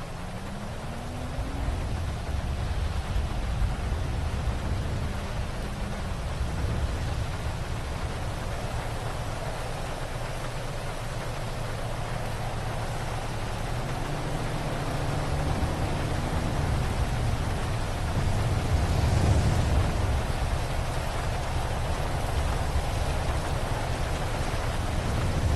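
Steady rain falls in a video game, a dense continuous hiss of drops on surfaces with low rumbling underneath, even and unbroken throughout with no voices.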